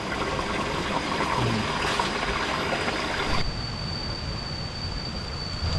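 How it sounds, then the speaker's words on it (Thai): Clear spring water wells out of the ground in a forest on Phu Phan, making a steady, close, continuous trickling hiss with no pauses. Its tone shifts slightly partway through. "ตรงนี้เหมือนเป็นตา น้ำไหลออกมาเลยนะครับ น้ำใสมากเลยนะ"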